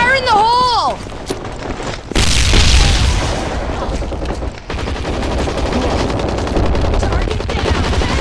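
In the game Hazard Ops, a loud grenade blast booms close by, followed by sustained rapid machine-gun fire, with a brief voice shout and game sound effects at the start.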